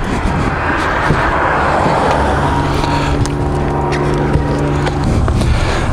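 A car pulls up to collect someone after a motorbike tyre repair, its engine a steady loud drone with a low tonal hum, mixed with broad outdoor rumble throughout.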